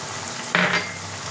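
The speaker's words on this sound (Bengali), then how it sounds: "এবার ভালো করে নেড়ে দেবো।" Cabbage curry with fish head stirred in a pan: a soft bubbling sizzle with one brief scrape of the spoon against the metal midway.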